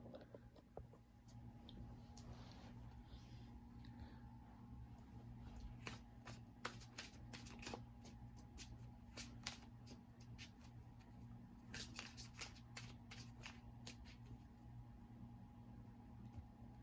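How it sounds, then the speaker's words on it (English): Quiet riffling of playing cards being shuffled, in repeated quick bursts of crisp flutters over a steady low hum, with no talking. "so you guys can see me shuffling a bit"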